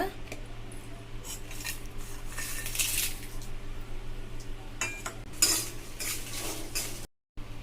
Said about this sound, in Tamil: இப்போ காஞ்ச மிளகாவை வறுக்கிறதுக்கு கொஞ்சமா எண்ணெய் சேர்த்து வறுத்துக்கலாங்க.